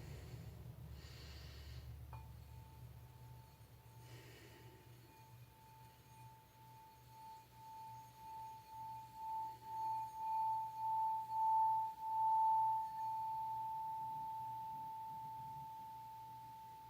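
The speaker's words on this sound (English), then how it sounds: "I'm going to use the sound bowl to set and clear the energy before we get into your cards" A struck sound bowl rings out with one clear, sustained tone that swells and pulses in a slow wavering rhythm before fading gradually, heard close against quiet breathing and low room hum.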